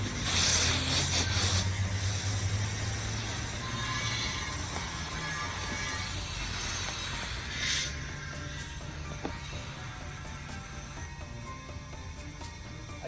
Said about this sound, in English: I use the fan setting so it sprays down the sides too.